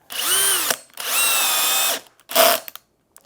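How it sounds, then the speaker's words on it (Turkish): Kale Pro brushless cordless impact drill driving screws into wood, two long steady whirring runs followed by a shorter burst, loud and close with no talking. "Kale Pro'nun kömürsüz bir matkabını var. Profesyonel darbeli bir matkaptır."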